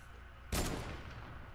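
A single loud burst of video-game gunfire cracks out and fades into a scattered, rumbling tail of more shots in a shooter match, with no talk over it.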